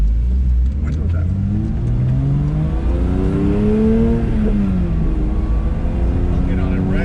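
Porsche 911 GT3 with manual gearbox accelerating, its exhaust rising steadily in pitch through the revs with a loud, continuous engine note heard from inside with the window down.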